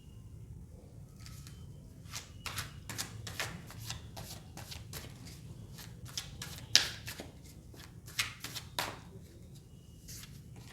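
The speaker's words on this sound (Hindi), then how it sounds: "जब तक मैं कार्ड शफल कर रही हूँ" Tarot cards being shuffled by hand during a reading, a run of soft riffling flicks and slaps at close range, some louder snaps near the end, over a low steady room hum with no talking.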